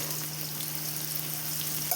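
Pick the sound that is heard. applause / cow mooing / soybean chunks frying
soybean chunks frying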